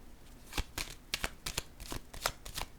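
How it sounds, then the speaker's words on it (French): Playing cards handled and set down on a table during a card reading, a series of crisp slaps and shuffling clicks in an irregular rhythm, close and fairly loud, with no talking. "je vais déposer une carte ici"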